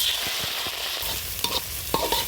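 Shrimp fry in soybean oil in a pan, cooked outdoors at midday beside a wetland, giving a loud, steady sizzling hiss with a few sharp spatula scrapes and taps toward the end.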